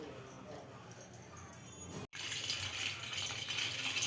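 Potato pieces for French fries tossed with cornflour in a bowl, giving a steady close rattling and rustling that breaks off for a moment midway.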